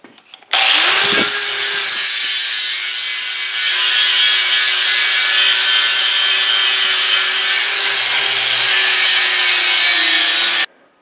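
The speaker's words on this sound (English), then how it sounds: "I got to grind this rivet off of this and take this apart." An angle grinder cuts through a rivet on a workbench vise, a loud continuous grinding whine that starts abruptly and runs steady for about ten seconds before stopping, with no talking.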